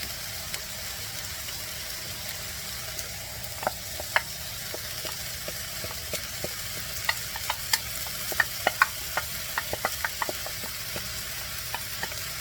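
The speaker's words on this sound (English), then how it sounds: "So now I'm gonna put my vegetables back in my skillet here." Vegetables returned to a skillet and stirred in with noodles for a ground turkey Alfredo, a soft low sizzle under a string of light scraping and clinking strokes, no talk.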